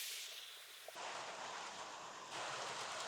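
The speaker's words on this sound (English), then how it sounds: "We've got a bit of rain around, so I do apologise if you're picking any of that up" Rain falls steadily outdoors beside an offset smoker cooking brisket, a soft, even hiss of drops with no voices, swelling slightly louder in its final second.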